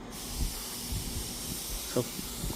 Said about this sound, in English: I wonder where that weird steaming sound is coming from.